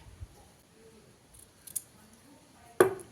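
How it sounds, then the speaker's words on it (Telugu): Scissors snip thread after a few knots are tied while sewing buttons onto a blouse: a quiet room with faint handling rustles, then one sharp, close metallic snip near the end and the start of another. "ఒక రెండు మూడు ముళ్ళు వేసేసుకుని ఇక్కడ కటింగ్ చేసుకోవాలి"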